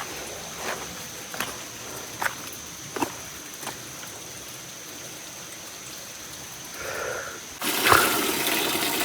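A large flow of water rushes past: quiet at first with a few scattered knocks, then swelling into a loud, broad roar over the last second and a half.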